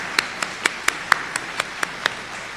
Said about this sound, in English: can we just give a round of applause to all the ushers and the volunteers and everyone who is here